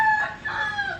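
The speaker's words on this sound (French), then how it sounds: "il y a un coq qui chante de temps en temps" A rooster crows by a river in Thailand, one short, fairly close call with a rising and falling shape over quiet evening surroundings.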